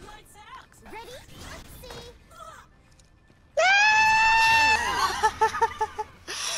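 A character in the fighting video game Soul Calibur VI lets out a loud, sustained scream after brief game voices and clatter, followed by sharp rhythmic hits and crashes.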